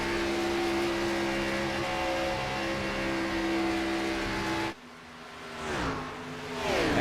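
Race cars circle the Daytona track in a sim racing video game, a loud, steady engine drone that cuts off sharply and returns with shifting, rising and falling pitch as cars sweep past.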